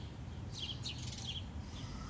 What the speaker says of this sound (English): I got my birds here today. Look at them hanging out.